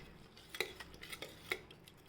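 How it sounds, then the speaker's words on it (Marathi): A spoon clinks and scrapes against a pan as spice masala for rajma is sautéed in oil, a few sharp metallic taps over a faint sizzle, close but quiet, with no talk. "आता आपण छान परतून घेऊया 2 मिनटं."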